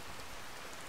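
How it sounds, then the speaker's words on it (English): Steady, even rain patters in a continuous hiss, faint and close, with no talk, from the True Storms weather mod in the video game Skyrim Special Edition. "It also adds a lot of sound effects to rain and thunder."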